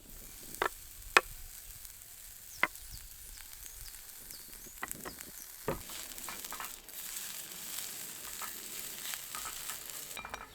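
Shallots cook in a pan with a quiet, steady sizzle, punctuated by a few sharp utensil clicks and taps, and the hiss grows slightly fuller toward the end.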